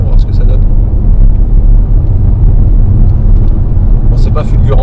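Opel Grandland X SUV with a 120-horsepower engine accelerating under full throttle, a steady loud engine drone and road rumble filling the cabin throughout, with no talk over it.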